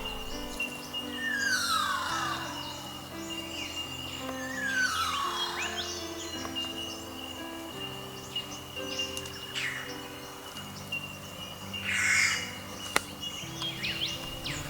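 Eastern whipbird calls ring out in the background, sharp whip-like rising and falling whistles repeated several times among other faint bird chirps and insect hum.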